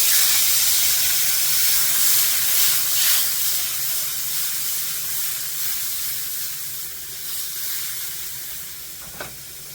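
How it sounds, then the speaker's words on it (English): White wine hitting a hot pan used for Greek-style chicken, a loud hissing burst of steam and sizzle that gradually fades and softens, with a small clink near the end. "I'm going to go ahead and deglaze this pan with a little bit of white wine."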